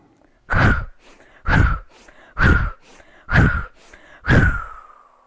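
Five slow, deep breaths during a guided breathing exercise, each a strong, close airy exhale with quiet pauses between, evenly spaced with no talking.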